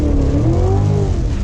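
A Cadillac CTS-V in a thunderstorm has its wheels spinning up on the wet road, a loud, close engine roar with a rising pitch that holds steady throughout.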